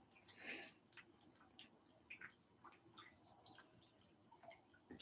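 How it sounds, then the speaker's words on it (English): Water drips from a bathroom in a quiet interior, scattered soft drops and small taps landing irregularly at low level over the whole stretch. "It's the drip from the bathroom"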